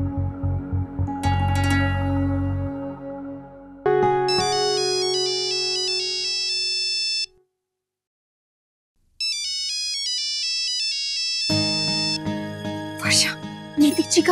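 Phone ringtone from a TV drama scene, a bright repeating electronic melody playing in two loud bursts separated by a short silence, with music and background sound before and after.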